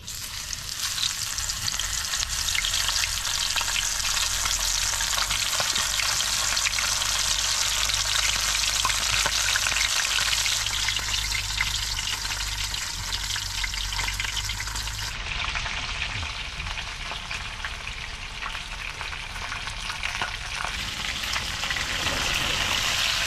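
Semolina-coated fish fries in hot oil, a dense, steady crackling sizzle that stays loud and unbroken throughout, close up with no talking.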